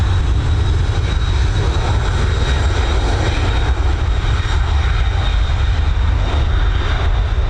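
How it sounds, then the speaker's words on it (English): A Boeing 767 jet departs Dublin Airport for Stansted, its engines producing a loud, steady, broadband roar that holds constant throughout without any voices. "this 767 heading over to Stansted"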